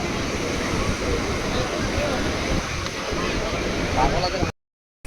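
Sea waves wash in at Digha beach as the tide comes in, making a continuous broad rushing roar mixed with wind buffeting. The sound cuts off abruptly just before the end.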